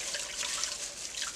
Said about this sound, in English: So I'm going to wring these out and set them aside.